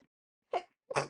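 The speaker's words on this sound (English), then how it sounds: "Oh my god, so many sneezes, excuse me." Two quick sneezes in succession, close and fairly loud, after a brief silence.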